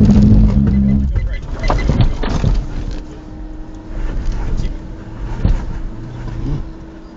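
A Jeep Grand Cherokee WK2 with coolant trouble rumbles and revs in short pulses on a rocky off-road trail, its engine close and low beneath voices and some mechanical clunks.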